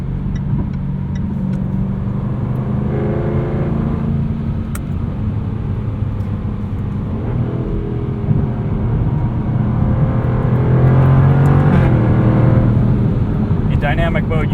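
A 2023 Jaguar F-Type R Coupe engine drones loudly from inside the cabin while driving in dynamic mode, revs rising and falling with distinct gear shifts near redline, someone talking over it.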